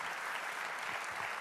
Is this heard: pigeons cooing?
no